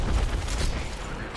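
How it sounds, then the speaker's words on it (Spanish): Rocket launches in the video game Apex Legends, a series of dense booming bursts with a low rumble that stays loud and steady through the short span, no talk over it. "Y tiré cohetes."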